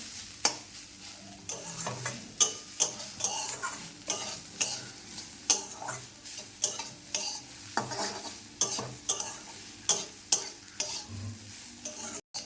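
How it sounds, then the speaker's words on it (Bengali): Grated carrots fry over medium heat for carrot halwa, a soft sizzle punctuated by regular scraping and clacking strokes of a spatula stirring the pan, close and rhythmic. "ভাজতে হবে এটাকে, অনেকটা টাইম নিয়ে ভাজতে হবে। গ্যাসটা মিডিয়াম আঁচে রেখে ভাজতে হবে এটা।"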